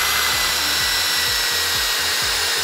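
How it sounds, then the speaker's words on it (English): A power drill boring a hole in wood, a steady loud whine with repeated dips in pitch as the bit bites and releases, close up and without talk. "If we were to drill a hole that was too big,"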